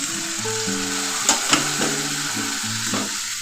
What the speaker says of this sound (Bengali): একটু নেড়ে নিচ্ছি মশলাটা দেওয়ার পর একটু কষিয়ে নিচ্ছি